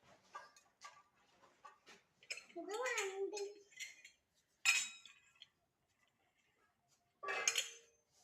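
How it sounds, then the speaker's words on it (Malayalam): A child plays with metal pots and utensils at home in the evening. Scattered clinks and clatters come and go beneath a child's vocal sounds and nearby talking. "പാത്രം വെച്ച് കളിക്കുന്നു."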